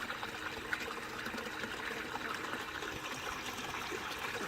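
Water drains from aquaponics grow beds in a steady, close trickle and gurgle that runs continuously and evenly throughout.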